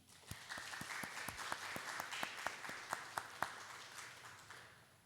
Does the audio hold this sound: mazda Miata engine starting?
no